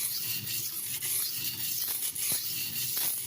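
A Tramontina Professional knife being sharpened on a vintage NILES silicon carbide stone, with a soft, steady gritty rubbing and scraping close up, broken by a few slightly stronger stroke accents and no talking.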